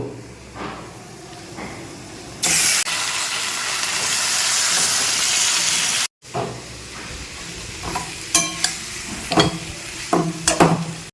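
Chicken meat hits a hot pan with a sudden loud sizzling hiss that holds for a few seconds, then gives way to scraping and stirring clatters as the pieces fry.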